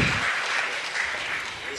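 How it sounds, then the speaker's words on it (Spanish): Brief burst of applause at a city council meeting honouring a pet adoption, dense clapping heard close and steady for under two seconds. "Un aplauso para Louis."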